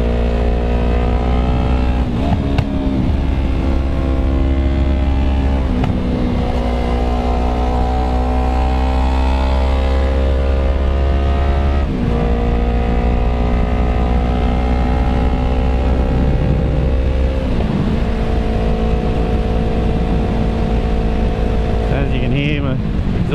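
Yamaha YZF R3 motorcycle engine and exhaust, loud and close, holding a steady drone with several rises and drops in revs as it accelerates and shifts, continuous throughout.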